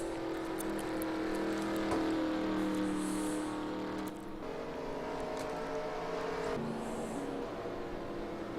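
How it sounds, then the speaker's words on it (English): Race car engines drone and whir in the distance in a racing video game set at Darlington, a continuous mechanical hum with faint high whines, somewhat synthetic, as cars come onto pit road. "Few of the cars coming down on pit road now."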